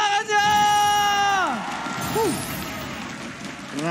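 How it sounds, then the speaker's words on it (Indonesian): A large crowd in the Mobile Legends MPL Arena cheers and claps loudly during an esports match, the sound sustained and reverberant. A caller's voice holds a long, rising shout over the noise. "mana tepuk tangannya?"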